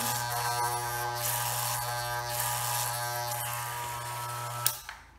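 An electric beard trimmer fitted with a number 1 (3 mm) guard trims a medium-short beard up toward the ear. Its steady, close, loud buzz runs unbroken, then cuts off near the end with a couple of small clicks.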